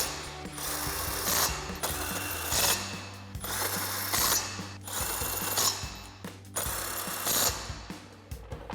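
Impact wrench tightening lug nuts on 2-inch 8-lug wheel spacers for a Ford F-250, heard as repeated loud bursts of ratcheting hammering separated by short pauses, with no talk over it.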